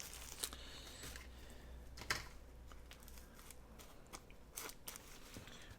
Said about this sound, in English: I'm just going to trim it off real easy